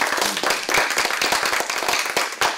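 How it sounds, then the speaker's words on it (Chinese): A burst of applause at a thanks ceremony in a township office meeting room: many hands clapping in dense, uneven bursts that keep up for a couple of seconds, loud and close. "那么鼓掌谢一下邱议员好不好？"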